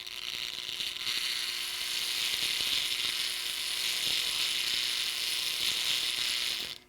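A restored HO Lionel Texas Special diesel toy train motor runs as a steady, buzzing mechanical whir with a fine ratcheting texture, continuous and close, ending abruptly.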